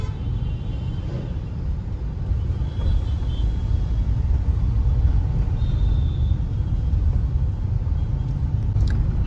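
Busy Mumbai road traffic near Bandra Kurla Complex (BKC), a heavy continuous low rumble of cars and trucks with occasional faint horn and brake tones.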